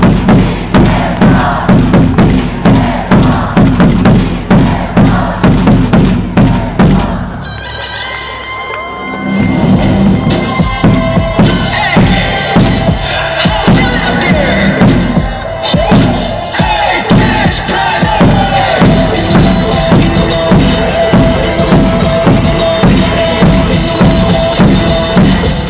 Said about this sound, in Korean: 응원의 박수 한번 부탁드리도록 하겠습니다